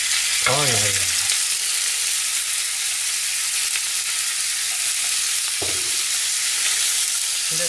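Pork belly frying in hot oil and its own rendered fat, a steady loud sizzle throughout with brief stirring or shifting noises near the start and again later.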